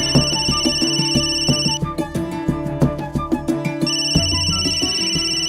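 A telephone rings with a repeating electronic ringtone melody, steady and fairly loud, pausing briefly midway before resuming, with no talking over it.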